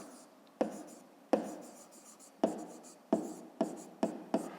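Handwriting on paper during a fifth-grade maths exercise: a series of about seven sharp pen-tap strokes, each followed by brief scratchy scribbling, close and quiet with no talking.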